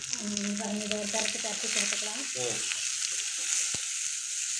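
Crushed onion frying in oil for a pea curry tempering, heard as a steady close sizzle with occasional stirring scrapes, while a tonal hum carries through the first half.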